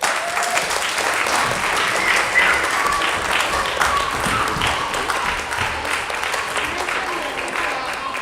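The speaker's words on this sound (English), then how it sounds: "Another round of applause" A church audience applauding at the end of a Friday evening concert, sustained dense clapping from a full room for several seconds, steady and fairly loud with murmured voices mixed in.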